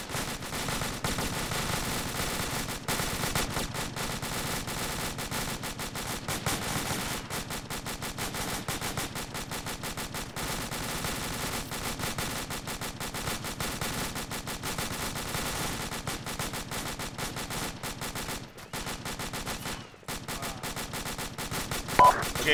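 Sustained automatic gunfire from enemy soldiers in a first-person military shooter, rattling continuously in dense bursts at close to mid range for the whole stretch, with only a couple of short gaps and no talk.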